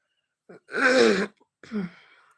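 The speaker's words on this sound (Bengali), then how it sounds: "কিছু একটা কথা বলতে আমার প্রচণ্ড কাশি হচ্ছে" A person with a heavy cough clears their throat and coughs: a short first burst, a longer loud rasping clear, then a softer second cough, close and alone.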